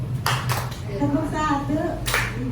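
A group of teachers claps in sharp, spaced bursts, roughly three distinct claps, alongside a voice leading a clapping chant.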